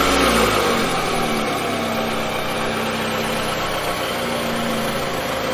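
Lamborghini Gallardo engine idling, a steady loud low rumble that holds constant throughout with a slight dip after the start.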